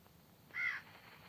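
A single crow caws once in a Minecraft-style video game, a short, clear call rising out of quiet ambient background.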